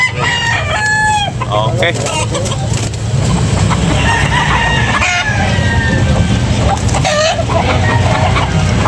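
Roosters crow and cluck loudly and continuously at a morning chicken market in Carbon, Cebu, with a car passing and someone talking over the birds.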